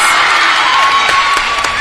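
Crowd cheering at a cheerleading competition, a bright, sustained roar of shouting voices with a few sharper whoops rising through it.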